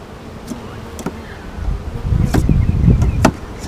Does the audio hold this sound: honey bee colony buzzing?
yes